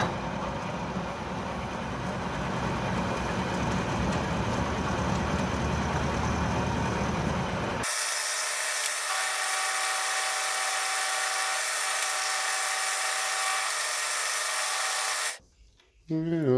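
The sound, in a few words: milling attachment milling slots in a spindle thread protector on an Atlas 10-D lathe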